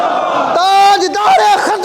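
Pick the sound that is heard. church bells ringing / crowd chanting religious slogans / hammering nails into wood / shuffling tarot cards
crowd chanting religious slogans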